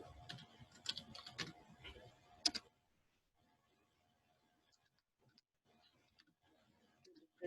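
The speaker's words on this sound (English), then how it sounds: "So I'm typing it like to the" Quick clatter of keystrokes on a computer keyboard while writing a document, clustered bursts at the start, then sparse soft taps after a pause.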